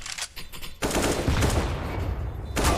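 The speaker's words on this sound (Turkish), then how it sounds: "Mayer şimdi onun AWP'sini yemliyor" Rapid bursts of automatic gunfire in a Counter-Strike match, loud and dense, with a short quieter gap before firing resumes.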